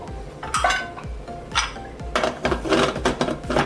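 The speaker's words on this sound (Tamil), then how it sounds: "ஒரு டீஸ்பூன் வந்து நெய் ஊற்றுறேன். ஊற்றிட்டு அப்படியே ஒரு நிமிஷத்துக்கு அப்படியே மூடி வச்சிடலாம்." Ghee is poured over soyabean pulao before the pot is covered, with loud metallic clanks of spoon and lid against the vessel in quick, irregular bursts close at hand.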